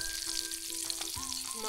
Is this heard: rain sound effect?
no